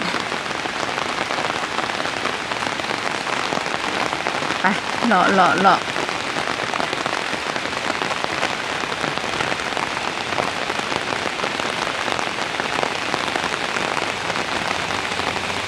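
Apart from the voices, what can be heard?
rain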